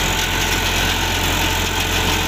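A 2019 Powertrac Euro tractor engine idles steadily, a close, even diesel rumble with constant vibration that runs through the whole stretch without pause.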